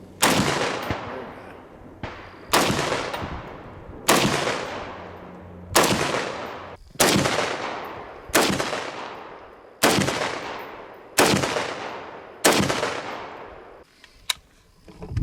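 A C-308 battle rifle fires about ten loud, evenly spaced single shots outdoors, each sharp crack trailing off into a long echoing decay, with no voices between them.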